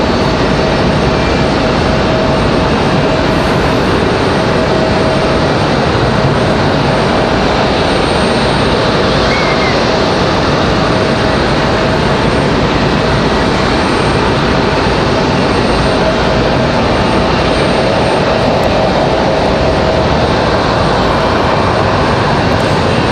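Steady broadband jet roar from a Frontier airliner passing overhead at Raleigh-Durham International Airport, a continuous wash of engine noise with no voices throughout.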